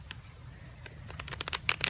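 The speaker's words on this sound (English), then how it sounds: "I am shuffling the cards right now for Libra" Tarot cards being shuffled, a quiet soft riffle and flutter of card stock building in the last second over a low room hum, close and faint with no speech.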